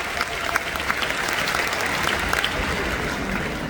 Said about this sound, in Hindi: एक बार आप सबके लिए जोरदार तालियां हो जाएंगे